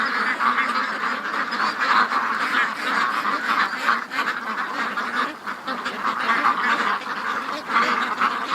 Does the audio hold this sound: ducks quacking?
yes